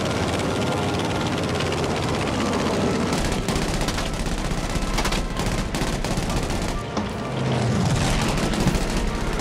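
Enemy warplane engines roar overhead in a Battlefield V match set in Japan, a loud continuous drone mixed with dense gunfire and bursts throughout, with no clear talking.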